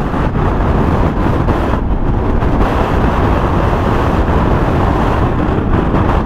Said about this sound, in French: c'est pas possible le vent qu'il y a